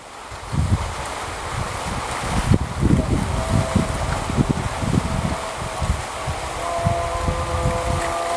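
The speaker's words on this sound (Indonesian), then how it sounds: "Anginnya sangat kencang sekali, jadi jagraknya ubah terus." Strong wind buffets the microphone over open rice fields, rumbling in heavy, gusty bursts throughout with no clear voices.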